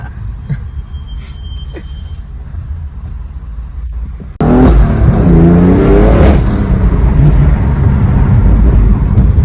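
BMW fitted with an M Performance exhaust revving, starting as a quieter idle then jumping abruptly into a loud, sustained roar with rising engine pitch through the second half.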